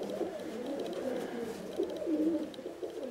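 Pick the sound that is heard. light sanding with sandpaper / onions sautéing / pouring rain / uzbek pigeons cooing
uzbek pigeons cooing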